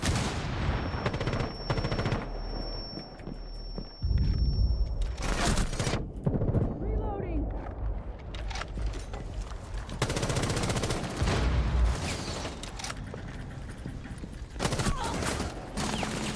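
Bursts of rapid gunfire and volleys of shots ring out in a Rainbow Six Siege match, loud and repeated across the stretch, with occasional talk in between.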